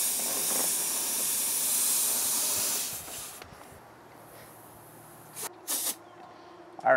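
A steady loud hiss of compressed air from an air compressor fills a bus tire for about three seconds, then stops, leaving quiet handling noises and a few brief air bursts.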